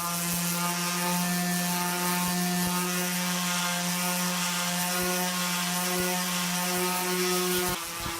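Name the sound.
machine sanding an axe head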